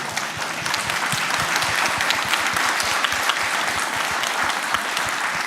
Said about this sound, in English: And we applaud Vladimir.